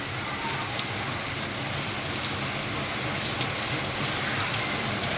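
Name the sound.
heavy rain with wind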